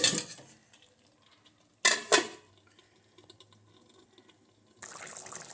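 A lid is set onto a cooking pot of chicken, giving a couple of sharp, close metallic clanks in quick succession. Fainter kitchen rattles and a burst of clatter follow near the end.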